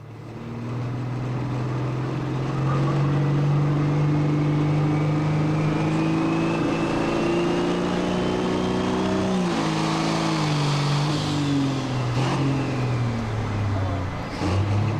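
A brand new light pro stock pulling tractor fitted with a big turbocharger revs hard at a county fair tractor pull, its loud sustained engine drone climbing and dipping in pitch close by for the whole stretch.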